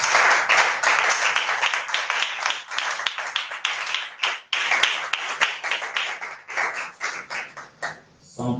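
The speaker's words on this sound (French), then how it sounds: "Est-ce qu'on peut acclamer pour la gloire de notre roi?" A church congregation at a Tuesday worship service claps and cheers for several seconds, dense steady applause filling the room, with voices mixed in.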